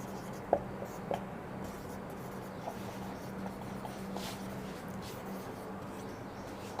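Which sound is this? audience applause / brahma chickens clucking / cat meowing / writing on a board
writing on a board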